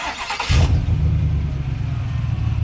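The 6.2-liter V8 of a 2019 pickup truck, High Country trim, cranks and catches with a burst, then settles into a deep, steady idle rumble.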